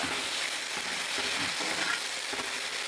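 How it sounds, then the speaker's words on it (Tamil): Ginger-garlic paste sizzles loudly in hot oil in a pan while being stirred and scraped for a Chettinad country chicken curry, a dense, continuous frying hiss with occasional spoon strokes. "இஞ்சி, 100 கிராம் பூண்டை பேஸ்ட் பண்ணி வச்சுருக்கேன், அதை சேர்த்துடலாம். சேர்த்து ஒரு பெரட்டு."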